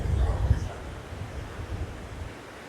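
Surf on Morjim Beach in Goa rumbles steadily with a low, continuous wash, strongest at the start and easing off, mixed with wind buffeting the microphone.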